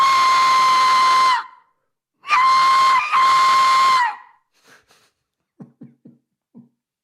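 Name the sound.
Aztec death whistle blown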